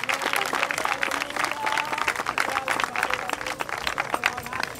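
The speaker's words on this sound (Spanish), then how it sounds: "Dale un aplauso a Cristo de esta noche." Applause for Christ breaks out at a nighttime evangelical church service, a dense, steady wash of clapping and crowd noise with voices mixed in throughout.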